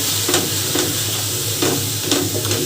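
Green chillies frying in oil in a pan, a loud continuous close-up sizzle with a few stirring scrapes and clacks at irregular intervals, no voices.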